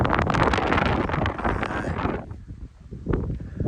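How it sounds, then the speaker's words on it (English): Strong northwesterly wind on the edge of the moors near Eyam in the Peak District buffets the microphone in loud, roaring gusts that drop away briefly before surging back, an open, blustery outdoor rush with no talking. "There's a bit of a stiff northwesterly breeze."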